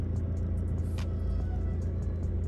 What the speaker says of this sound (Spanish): automáticamente veis que ya empieza el coche solo, sin hacer nada